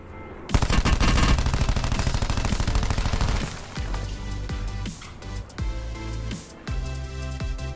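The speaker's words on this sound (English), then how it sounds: "Am I getting shot at?" Rapid automatic gunfire in the video game Black Ops 4 rattles loud and dense for several seconds, then breaks into shorter bursts and single shots.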